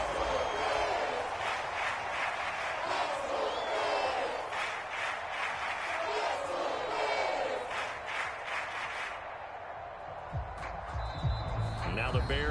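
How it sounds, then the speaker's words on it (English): An NFL stadium crowd at a Commanders versus Bears game roars and shouts steadily as a replay is shown, a broad, loud wash of voices under a play-by-play commentator talking over it. "Plenty of shouts from this crowd as they watch the replay."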